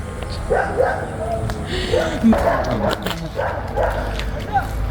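A dog yips and whimpers several times outdoors in green countryside in Montenegro, mixed in with a person talking over steady wind and ambient noise.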